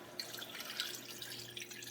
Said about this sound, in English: So I'm going to put my 3 cups of water